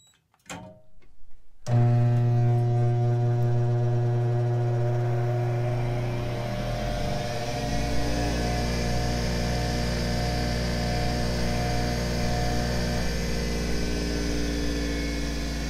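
Bench grinder fitted with a new CBN wheel for sharpening high speed steel turning tools spinning up and then running steadily, a strong tonal hum with a mechanical whine that holds for the rest of the clip, close and alone.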